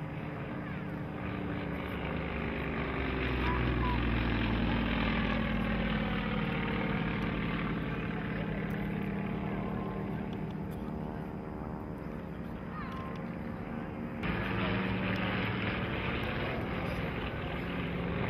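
Airshow planes fly over a high mountain lake, their engines producing a sustained droning roar that swells and fades as aircraft pass, steady and moderately distant with wind noise mixed in.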